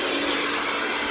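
Handheld hair dryer blowing hair during a blow-dry, a loud, steady, close airy rush with no breaks and no talk.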